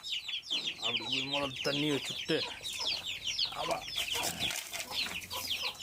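Chickens being fed fish waste cluck and squawk repeatedly nearby in a busy, uneven chatter, with a person speaking briefly underneath.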